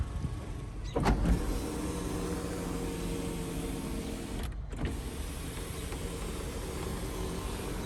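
Factory electric sunroof on a 2002 Honda Civic EX Coupe running its motor, a steady whirring drone heard from inside the car with two brief clicks as it starts and stops.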